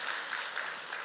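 Steady clapping from a church congregation at a Malay-language Sunday morning service, a dense, continuous wash of many hands filling the room at moderate loudness.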